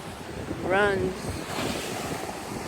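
Ocean waves crash over a rim of rock along a beach breakwater at Corito Bay, a steady roaring surf with wind noise, loud and close, with a brief tonal sound rising over it near the start.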